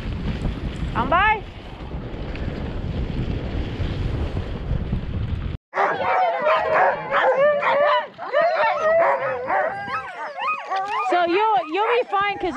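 Sled dogs whine and howl in a snowy winter setting, wavering cries layered over each other up close after a burst of wind noise, with a person speaking at the start.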